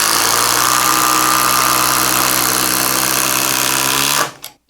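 A cordless impact driver drives a 6-inch TimberLok screw with a loud, steady, rattling whir that lasts about four seconds and then cuts off abruptly.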